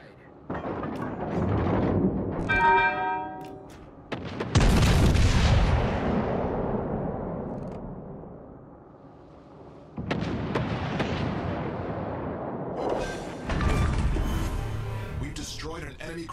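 Naval video game combat with requested fire on a target: heavy artillery booms and explosions roll out in several big bursts with long decaying rumbles, and a radio-style voice speaks over part of the action.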